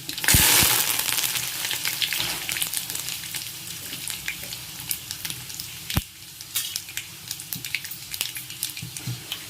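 Dry red chillies and curry leaves hit hot oil for a loud opening burst of sizzling, then a steady crackling fry with scattered pops and light stirring scrapes, close up.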